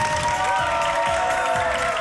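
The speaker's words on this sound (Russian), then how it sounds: "Эти аплодисменты для вас." Loud, sustained applause and cheering from a television studio audience at an MTV Russia anniversary show, with music playing underneath and indistinct voices in the crowd.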